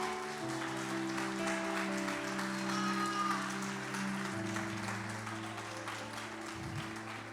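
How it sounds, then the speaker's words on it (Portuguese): A church congregation applauds during a worship conference, the sustained clapping carrying on over held tones from music in the room, with no voices speaking over it. "Aleluia, aplauda Ele em nome de Jesus."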